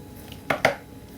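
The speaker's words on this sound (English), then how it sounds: "You want to cut on your selve edge, just a little snip of the size that you want." Two quick scissor snips cutting into the selvage edge of quilting fabric, sharp and close, a brief crisp pair of cuts in an otherwise quiet room.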